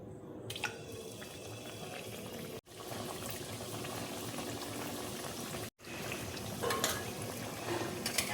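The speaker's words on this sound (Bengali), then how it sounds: "এবার আমি তেলের মধ্যে ভেজে নেব।" Semai pitha frying in hot oil in a wok, a steady, dense bubbling hiss that cuts out briefly twice and then resumes at the same level.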